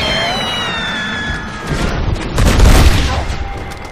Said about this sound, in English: I have a semi-auto shotgun now.